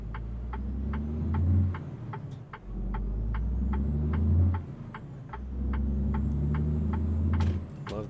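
A Freightliner Cascadia's Detroit diesel engine in a truck-driving game drones with a deep, steady throb, rising and easing in three long surges alongside a regular ticking, with no talk.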